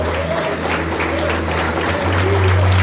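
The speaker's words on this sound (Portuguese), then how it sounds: "Você pode aplaudir o Senhor?" A church congregation claps together in a broad, continuous wash of applause, with a sustained musical tone and faint voices underneath.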